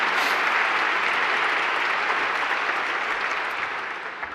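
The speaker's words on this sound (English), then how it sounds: "Give yourself a round of applause." Steady, dense applause from a large crowd at a Princeton graduation ceremony, honoring the graduating class, sustained throughout before easing slightly near the end.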